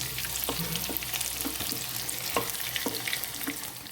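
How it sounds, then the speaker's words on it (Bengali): Potatoes with salt and turmeric dropped into oil left from frying jackfruit, crackling in a steady sizzle with soft stirring clinks throughout. "এঁচোড় ভাজার তেলেতেই আলুগুলো ছেড়ে দিচ্ছি।"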